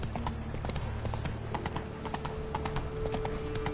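Horse hooves clip-clop at a steady trot in The Witcher 3, the quick rhythmic thuds close and continuous over a low background of game ambience, with no talking.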